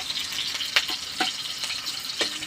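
Garlic and onion sizzle steadily while being sautéed in a pan, a continuous frying hiss with a few sharper stirring scrapes, close and moderately loud with no talking.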